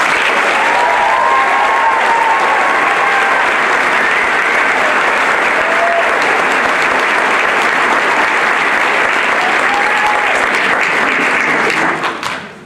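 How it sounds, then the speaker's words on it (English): Audience at a nursing pinning ceremony clapping loudly and steadily, a dense sustained applause from a large indoor crowd that carries on for over ten seconds before tapering off. "Let's give them a round of applause."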